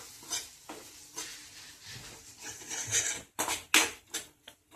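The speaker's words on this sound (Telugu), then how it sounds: "ఇప్పుడు అందులో ఒక ఎగ్ వేసుకోవాలన్నమాట. మనకు కావాల్సినంత మిక్స్ చేసుకోవాలి." Egg being stirred and mixed with rice in a frying pan, a soft sizzle under repeated scraping and clattering strokes of a utensil against the pan, growing louder with sharper knocks toward the end.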